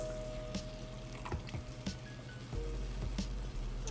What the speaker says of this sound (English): We're gonna go on with some regular whipping cream.